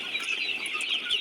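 Sonali chickens on a poultry farm cluck steadily in a dense, overlapping flock chorus, close and continuous with no voices over it.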